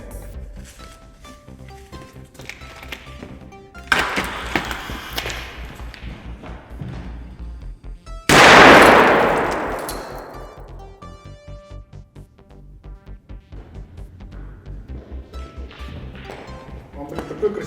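RGS-4 and RGS-6 airsoft grenades go off inside a pouch, one loud burst with a long decaying hiss of gas and debris, followed by lighter thuds and rattles while people talk throughout.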